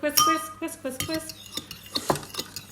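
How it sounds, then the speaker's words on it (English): Eggs whisked in a bowl for egg muffins, a quick run of metallic clinks and scraping taps from a whisk against the dish, close and fairly loud, with a voice chiming in. "We've got to whisk."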